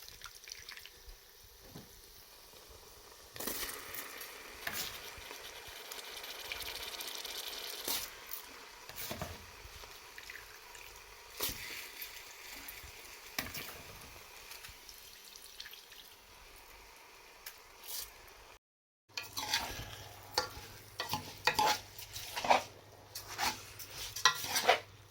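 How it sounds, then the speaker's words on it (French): Washed rice poured into a pot of seasoned, salted turmeric rice mixture and stirred, giving scraping, stirring and faint sizzling sounds near the microphone, with a brief silent break before busier stirring resumes. "je vais maintenant rajouter le riz déjà lavé"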